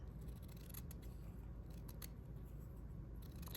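Scissors cut a small piece of embroidered trim for a quilted bookmark, a few quiet snips that are faint against a low, steady room hiss.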